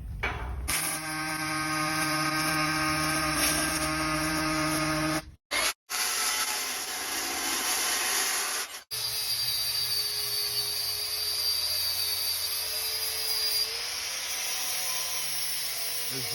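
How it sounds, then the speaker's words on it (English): Pulsed MIG welding using 90-10 shielding gas, producing a loud continuous buzzing hum with a steady pulsing tone, broken by short cuts in the arc before it settles into a smoother drone. "the last weld we're going to do today is the pulsed MIG or GMAW pulse"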